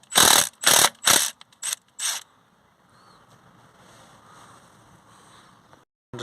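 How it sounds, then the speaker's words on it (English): A ratchet wrench undoes a 12mm bolt on the front suspension strut of a Hyundai i30, with five loud, close, rapid clicking bursts in the first two seconds, then a faint mechanical rustle. "Now we're going to get this bolt here off."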